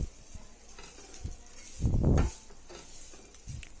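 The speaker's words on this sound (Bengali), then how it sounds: "চেরা মাংসগুলো আমি সবজিগুলোর সাথে দিয়ে ভালোভাবে এটিকে আমি ভেজে নিচ্ছি" Chicken and vegetables being fried together in a pan for chicken soup, with a soft, intermittent sizzle and stirring and one louder scraping burst in the middle, close and without talk.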